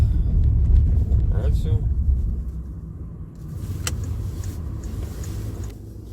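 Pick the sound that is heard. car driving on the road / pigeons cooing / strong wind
car driving on the road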